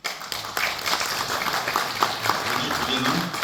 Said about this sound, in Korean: 정운창 총리님을 큰 박수로 환영해 주시기 바랍니다.